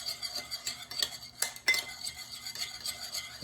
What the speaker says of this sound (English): So I'm going to mix things together.